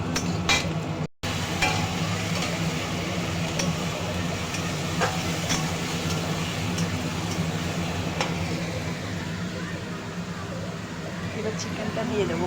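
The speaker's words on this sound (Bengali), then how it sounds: "চিকেনের জন্য এই যে আলু আর পেঁয়াজটা ভাজা করে নিচ্ছি" Potatoes and onions fry in a pan, giving a continuous dense sizzle with scattered light clicks of stirring, close and steady throughout, with a brief dropout near the start.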